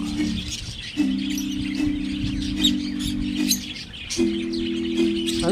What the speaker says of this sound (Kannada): ಪೀಚ್ ಪೇಸ್ಡ್ ಲವ್ ಬರ್ಡ್ಸ್ ಅಂತ ಇವು.